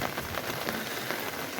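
Rain falls steadily and heavily, a dense, even patter with no pauses or voices across the whole short stretch.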